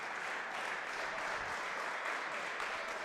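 A crowd cheers and claps steadily at a high school varsity boys wrestling dual meet, a dense, continuous roar of applause filling the whole space with no pauses.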